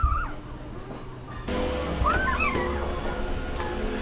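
Puppies whimper and yip in a string of thin, rising squeals and short cries, moderately close over a steady low background rumble.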